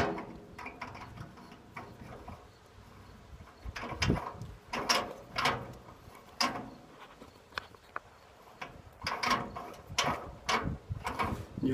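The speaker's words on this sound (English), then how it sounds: "So now I will screw in the valve inside the hideaway tank." Propane valve being screwed by hand into a hideaway tank for a fire pit conversion, giving a series of soft metallic clicks and ratcheting ticks, close and fairly quiet, with no talking.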